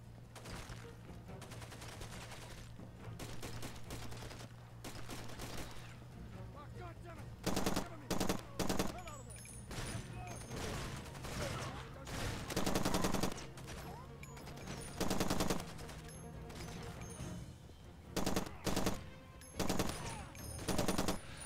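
A semi-automatic sniper rifle in the video game Far Cry 2 fires sharp, loud shots one at a time at irregular intervals over a steady low background hum.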